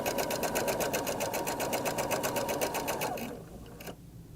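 A sewing machine stitching a seam on a shirred top, running in a steady, fast, rhythmic whir close by, then slowing and stopping near the end.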